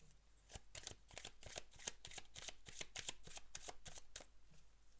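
Tarot cards being shuffled and laid out, a fairly soft, steady run of quick riffling flicks and taps that carries on evenly throughout with no voices.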